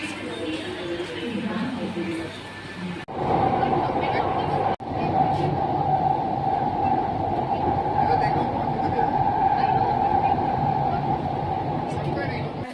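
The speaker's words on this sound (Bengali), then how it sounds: "প্রথমবার মাটির তলায় মেট্রো দিয়ে যাচ্ছি।" Underground metro train ride in Kolkata, passing beneath the river from Howrah: a steady loud rumble with a sustained whine, interrupted briefly by a sharp jolt, continuous throughout with faint background chatter.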